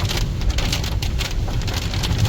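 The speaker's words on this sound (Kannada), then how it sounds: "ಇವಾಗ ತುಂಬ ಜೋರಾಗಿ ಮಳೆ ಬರ್ತಾಯಿದೆ" Heavy monsoon rain pours down steadily in the Malenadu hills of Karnataka, a dense hiss of drops pattering on surfaces with no pauses.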